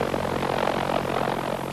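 A V-1 flying bomb's pulse-jet engine running at part load on its launch ramp, a loud, steady rasping drone with a rapid pulsing throb, heard alone without talk.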